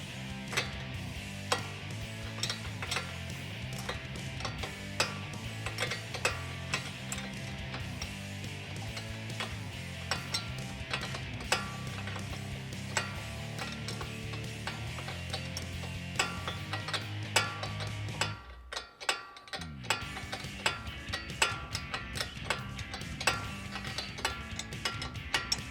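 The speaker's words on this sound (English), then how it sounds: "Now we'll tighten our sway bar nut up." A ratchet tightens the sway bar nut on a 2021-2022 Ford Bronco during a leveling kit install, steady rapid clicking that runs almost throughout with a brief pause near the end.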